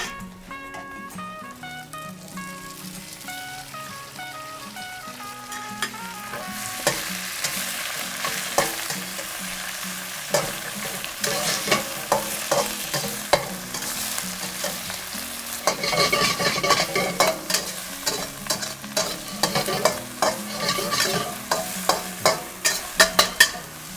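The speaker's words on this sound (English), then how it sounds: "back on the heat. I'm gonna add the spinach." Spinach stir-fried in a covered wok skillet, with a continuous close sizzle of frying under repeated scraping and stirring strokes that grow busier and louder toward the end.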